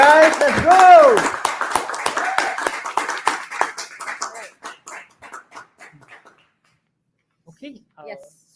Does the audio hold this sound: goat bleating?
no